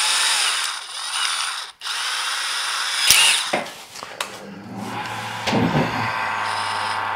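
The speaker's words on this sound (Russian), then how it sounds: "Аккуратненько в шуруповерт вставляем это дело. И делаем немножечко меньше диаметр шляпки болта." A cordless drill driver spins a bolt to shave down the diameter of its head, giving a continuous whirring grind with brief pauses and shifts in pitch, plus a few sharp clicks and scrapes midway.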